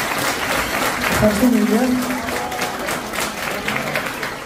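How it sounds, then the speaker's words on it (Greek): Applause for the children at a Greek association's pita-cutting gathering in a Peristeri event hall: a room of hands clapping steadily at moderate distance, while someone speaks over it through a microphone. "θέλω ένα χειροκρότημα για τα παιδιά για την προσπάθεια αυτή που κάνουν"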